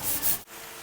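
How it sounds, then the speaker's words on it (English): Sandpaper rubbed by hand over 3M finishing glaze on a car body, a short close scratchy stroke that breaks off partway through before a quieter rub resumes. "So sand just a little bit more and we'll just about have this."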